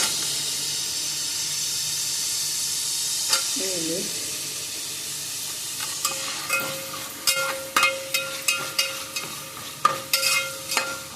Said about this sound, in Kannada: ಮತ್ತು ಟೊಮೆಟೊ ಒಟ್ಟಿಗೆ ಫ್ರೈ ಆಗಲಿ